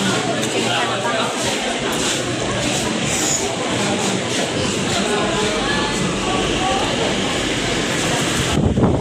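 Strong wind roaring at an exit, a loud continuous broadband rush buffeting the microphone throughout, with no breaks.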